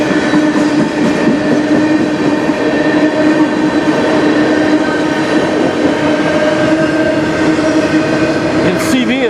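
A CN freight train rolls past on the Strathroy Subdivision near Sarnia, Ontario, with loud, continuous rumbling, wheel noise and faint squeal from the wagons, close by and steady throughout.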